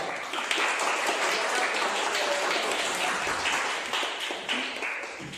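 Classroom applause for a student group after their presentation; a steady, dense patter of many hands clapping together, fairly close and even throughout, without speech.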